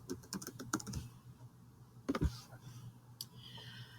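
Login details typed on a computer keyboard, close and quiet: a quick run of key clicks, a pause, then a short cluster of firmer keystrokes and a final single tap.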